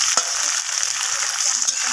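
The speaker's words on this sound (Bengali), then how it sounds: "এগুলোকেও আমি ভেজে নিচ্ছি লালচে করে" Greens stems and whole peas frying in oil in a pan, a steady close sizzle with a few brief stirring scrapes, no voices.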